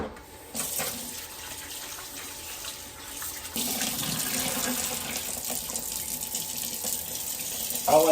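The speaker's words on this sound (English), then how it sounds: "I like to rinse it in water." Tap water runs steadily into a sink while shrimp are rinsed, a continuous hiss that gets louder and fuller partway through as the flow strikes the shrimp, close and uninterrupted.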